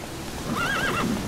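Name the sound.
horse Roach neighing in The Witcher 3 video game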